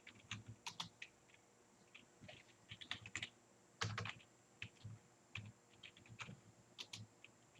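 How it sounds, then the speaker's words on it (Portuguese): Quick bursts of keystrokes on a computer keyboard in a quiet room, uneven clusters of taps with short pauses as a command is typed on Windows, no talking. "se eu quiser alguma ajuda aqui no Windows, eu vou digitar assim"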